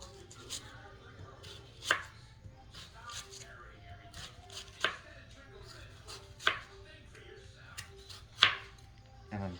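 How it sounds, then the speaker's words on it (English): Onions are chopped with a knife on a cutting board in a home kitchen, sounding as a handful of sharp, irregularly spaced knocks at close range, with soft rustling in between. "So I'm just going to cut up some onions in here."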